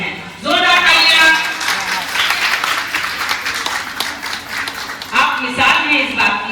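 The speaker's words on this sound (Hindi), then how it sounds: "जोरदार तालियां" Loud crowd applause at a Women's Day celebration in a residential society, sustained clapping from many hands with voices and an announcer speaking over it.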